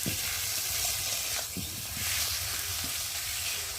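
Lailon tika fish frying in hot oil for a spicy fish curry, a steady close sizzle and hiss with faint stirring scrapes running throughout, no voices.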